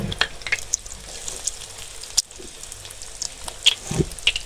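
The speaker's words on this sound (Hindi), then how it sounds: "अब हम इसमें फ्राई करेंगे।" Egg and bread donuts deep-fry in hot oil over high heat: a close, steady crackling sizzle scattered with sharp pops and spits.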